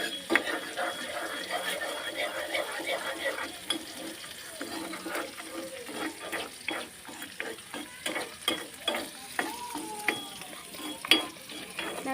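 Egg frying in oil in a pan is stirred steadily, giving a continuous close sizzle broken by rhythmic scraping and clinking strokes throughout.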